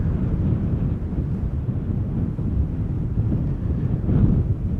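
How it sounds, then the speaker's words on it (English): Strong crosswind buffets the microphone at Schiphol Airport, a steady loud low roar of gusting wind with no break, swelling slightly near the end. "Definitely feels like more wind."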